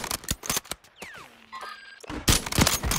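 Gunfire in Warzone, with Kar98 rifle shots among sharp, loud reports in irregular bursts, broken by a falling whistle-like tone and a brief ringing, then another dense cluster of shots.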